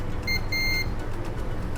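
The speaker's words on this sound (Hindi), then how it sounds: "प्राइमरी कोयल हमारी इसी से डायरेक्ट बीप करेगी, जैसे ये कर रही है।" An LED TV power supply's primary coil gives two short, high electronic beeps in quick succession, faint over a steady low hum on a repair bench.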